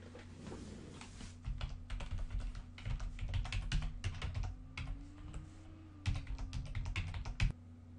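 An email address and password are typed on a computer keyboard in steady clusters of crisp, close keystrokes, with brief pauses between bursts over a low background hum.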